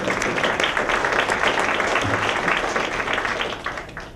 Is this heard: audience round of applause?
yes